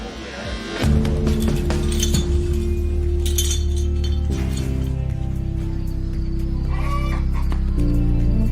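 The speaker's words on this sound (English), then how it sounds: "It's egg laying time. They're singing the egg song." Hens cackle and cluck around laying time, with clinking and a steady low hum beneath, carrying through the whole stretch at a moderate level.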